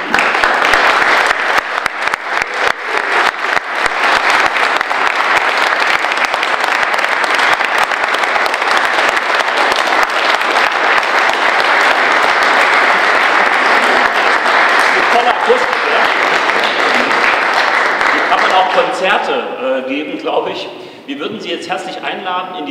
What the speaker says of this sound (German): würde Sie bitten, Ali mit einem Applaus zu danken